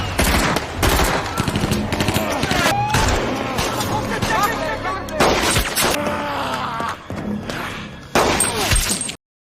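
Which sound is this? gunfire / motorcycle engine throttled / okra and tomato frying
gunfire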